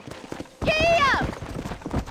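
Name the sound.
horse galloping hoofbeats in video game Red Dead Redemption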